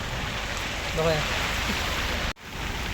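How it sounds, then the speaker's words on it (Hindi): Heavy rain pours down steadily in a broad, continuous hiss, with a brief voice speaking over it near the start and a short break near the end. "वर्षा देखो क्या कुट रही है दिख रहा है जोर से पड़ रहा है बारिश"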